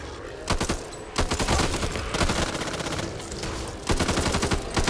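Sustained, loud gunfire from the video game Back 4 Blood, with dense rapid bursts and repeated volleys that overlap almost continuously.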